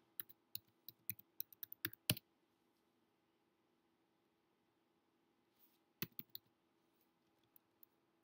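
Keys are pressed on a computer keyboard to enter a password, a quick run of close, crisp clicks followed by a pause and a few more scattered taps, with no talking.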